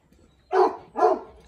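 A Cane Corso barks twice, two deep, close, loud woofs about half a second apart after a brief quiet moment.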